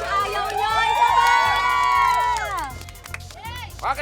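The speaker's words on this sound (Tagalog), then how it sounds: "Sample palakpak." Studio audience on a Filipino talk show cheers and claps together, a loud crowd roar with shouts and whoops that fades toward the end, a deep rhythmic music bed running underneath.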